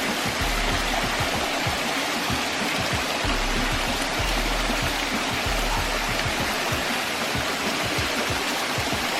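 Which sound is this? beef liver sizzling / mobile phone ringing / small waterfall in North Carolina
small waterfall in North Carolina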